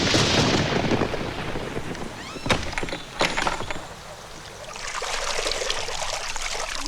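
Water is poured in a continuous gushing splash, with a few sharper sloshing bursts midway before the rushing flow swells again.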